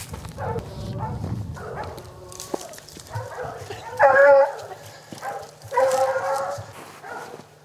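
Several hunting dogs barking and yelping in excited bursts at a middle distance during a mountain lion hunt in New Mexico, with people talking and breathing hard nearby.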